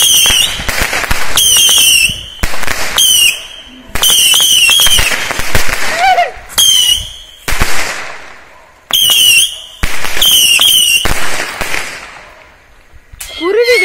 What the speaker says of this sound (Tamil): அண்ணா ஒரு சூப்பரான வெடி வைக்கிறேன்